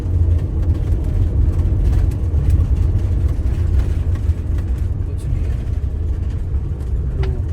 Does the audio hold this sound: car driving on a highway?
yes